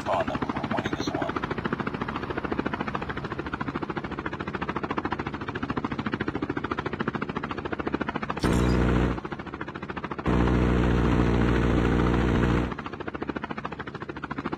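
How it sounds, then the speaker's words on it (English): Chopper gunner killstreak helicopter in Call of Duty Mobile, a steady loud rotor drone throughout with game effects and bursts of heavy gunfire layered in near the end. "Deployed chopper gunner."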